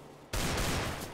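A single sharp, loud Desert Eagle shot in Counter-Strike: Global Offensive, fired at a wall, cracks out abruptly and leaves a dense, noisy ringing tail with no speech.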